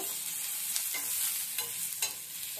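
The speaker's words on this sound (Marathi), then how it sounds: "कांदा टोमॅटो असा मऊ झाला पाहिजे अशा पद्धतीने भाजून घ्यायचं." Onion, tomato and garlic masala fries in a pan for bhendi fry masala, a steady close sizzle broken by several scraping stirs of a spoon.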